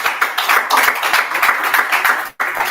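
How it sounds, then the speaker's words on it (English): Audience applause for a speaker at a business summit for young CEOs, dense steady clapping filling the room for a few seconds before cutting off abruptly near the end, then briefly resuming. "Please, a round of applause for him."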